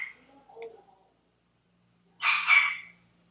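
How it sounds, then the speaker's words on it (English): A pet dog gives a short burst of barking at close range, following a quieter stretch of faint sounds and near silence in an indoor room. "Oh my god, my freaking dog."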